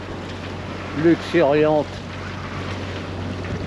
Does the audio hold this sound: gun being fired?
no